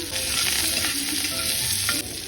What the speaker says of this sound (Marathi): जिरी, लसूण, हिरवी मिरची, कढीपत्ता, कांदा टाकून मिक्स करू